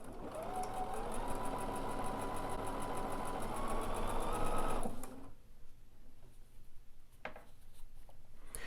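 A Bernina bulky overlock machine stitches piping with a steady, loud mechanical whir and rapid rhythmic chatter for about five seconds, then stops abruptly, leaving quiet room noise with a couple of faint clicks.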